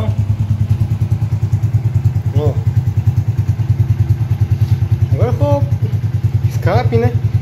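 A small Honda Pop motorcycle with a newly fitted exhaust idles as it warms up, a close, steady low thumping putter with a few voices talking briefly over it.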